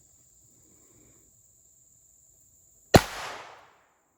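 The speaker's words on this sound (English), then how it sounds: "CCI is a really good brand, so let's try them out on Meat Target and let's see the results." A single sharp crack of a .22 LR rifle firing a CCI Mini Mag round at a meat target outdoors, loud and sudden after near silence, with a short fading tail, over a faint steady insect-like hum.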